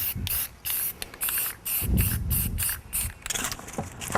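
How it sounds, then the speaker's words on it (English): Spray can of gray automotive primer hisses in about a dozen short bursts over the grooves of a door, close and fairly loud, with brief pauses and soft handling noises between bursts. "Gray automotive primer is all I use."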